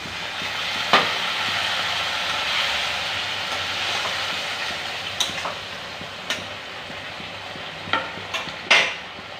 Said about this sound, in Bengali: কষা হয়ে গেছে, আমি জলটা দিয়ে দিচ্ছি।